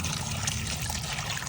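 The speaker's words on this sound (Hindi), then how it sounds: "फिर से वॉश करते हैं।" Water runs steadily over bitter gourds being washed, a continuous close splashing trickle with no speech.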